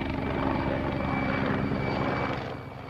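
A Soviet-built Mi-24 helicopter gunship flies overhead in Afghanistan, its rotor and engine giving a steady, heavy thrum that holds strong before easing slightly at the end, with no voices.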